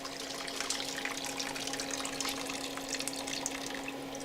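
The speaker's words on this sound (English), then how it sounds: "all we're trying to drain is from here through the pump and out here" Water drains out through a pump in a homestead water system after a pipe union is opened, a steady trickling and splashing flow over a constant low hum, with no talking.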